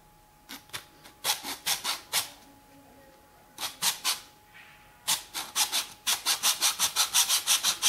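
A hand saw rasps through material in bursts of rhythmic strokes, a few short runs, then a long steady series of quick back-and-forth cuts, close up.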